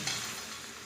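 Curry leaves drop into hot oil in a frying pan, giving a brief steady sizzle and crackle of frying up close, with no voices.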